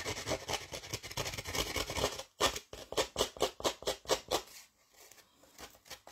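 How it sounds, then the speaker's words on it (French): Scissors scrape along the edge of paper for a tropical card in a steady rasping rhythm, a dozen or so short strokes close up, followed by a quieter pause. "Il suffit juste de passer les ciseaux comme ça sur le bord."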